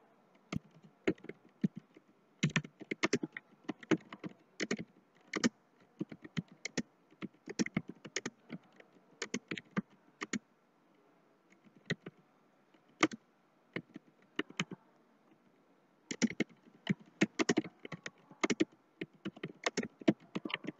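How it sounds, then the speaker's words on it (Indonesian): Typing on a computer keyboard, with bursts of quiet, close key clicks in irregular runs and brief pauses between them over about twenty seconds, and no voices. "Saya ketik dulu teman-teman ya."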